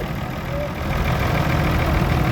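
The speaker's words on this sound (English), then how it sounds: "one of our large tractors, a Ford 7810 2WD of 1989, owned by B. Garrett of Attleborough" A 1989 Ford 7810 two-wheel-drive tractor idles at a vintage tractor parade, a steady low engine rumble held close and fairly loud across the whole stretch, with no talk over it.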